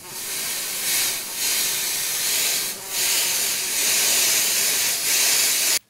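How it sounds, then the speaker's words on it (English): Steady aerosol spray hisses in several long bursts with brief pauses between them, loud and close. "What do you think bug spray's for?"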